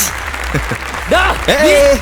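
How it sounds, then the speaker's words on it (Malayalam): Campus crowd applauding, a steady wash of clapping with shouted voices and cheers rising over it in the second half. "കയ്യടി കണ്ടോ?"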